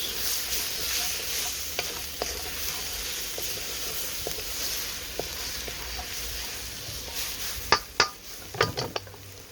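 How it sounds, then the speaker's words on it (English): Powdered spices for chana masala fry in a pan outdoors, giving a steady, close, continuous sizzle, with a few light clinks of utensils against the pan toward the end. "Cook the rawness out of those powdered spices."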